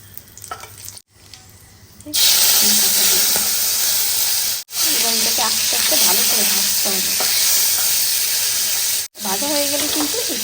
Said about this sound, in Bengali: এখন ভাজছি লঙ্কা কড়াইতে আমি একটু তেল দিয়ে দিয়েছি